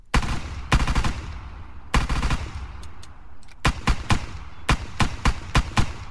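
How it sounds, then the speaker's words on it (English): Type 115 .50 caliber semi-automatic marksman rifle firing in the Arma 3 video game, loud close shots in quick bursts at first, then a series of single sharply spaced rounds, each with a brief echoing tail. "the bottom is a 50 caliber semi-automatic marksman rifle or anti-material rifle"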